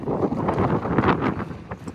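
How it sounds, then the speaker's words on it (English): Strong wind buffets the microphone outdoors at a roadside barbecue spot and gas station in Texas, a loud continuous roar with gusty swells and no pause, no one speaking. "I know this wind's probably pretty strong,"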